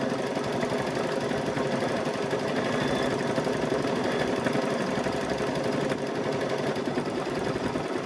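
A sewing machine stitches a patchwork gnome quilt, its rapid, even mechanical rattle running continuously and loudly without pause.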